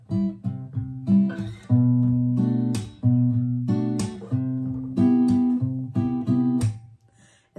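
Guitar plays a CMaj7 chord progression, rhythmic strums and ringing chords moving between shapes on the sixth string, close and clear, alone with no talking.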